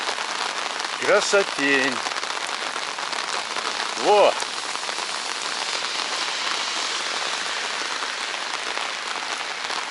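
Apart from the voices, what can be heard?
heavy rain falling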